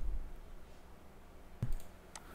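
A computer mouse is clicked while filling in a form on a PC, two sharp, quiet single clicks close to the mic over a low background hum, without talking.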